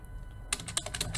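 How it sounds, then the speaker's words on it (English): Rapid keystrokes on a computer keyboard, about half a dozen close, crisp clicks in quick succession after a brief quiet start. "you can simply use spacebar from your keyboard in order to move down."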